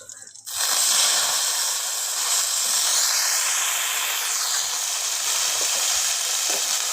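Sliced brinjal with cumin and coriander sizzles loudly and steadily in hot oil in a pan over a wood-fired chulha, with a bright hiss and faint scraping as it is stirred, and no voices.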